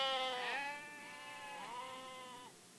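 Sheep bleating: two long, wavering calls one after another, fairly close and clear, with no talk over them.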